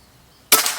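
A single sharp shot from a PCP air rifle, a Predator with full CNC body and extra-power plenum, bursts loud and close after near silence, with a brief decaying tail.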